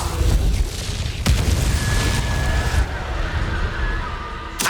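Incendio, the fire spell in Hogwarts Legacy, goes off with a sharp booming burst and then a crackling, whooshing roar of flame. A second burst lands near the end, over a busy game soundscape.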